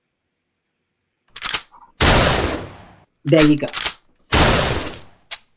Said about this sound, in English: where that gunshot?